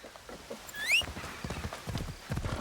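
A horse's hooves clip-clop in a steady rhythm in a video game, with a short whinny partway through, fairly close and moderately loud.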